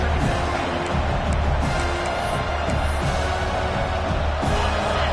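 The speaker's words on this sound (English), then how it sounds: "Listen to the crowd energy here in the early going." A steady roar of a large stadium crowd at a Clemson football game, continuous and loud, with cheering swelling throughout and no clear break.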